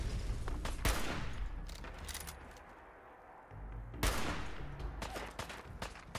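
Enemy gunfire in Fallout 4, several loud separated cracks and bursts with quieter stretches between them, heard alone without talk.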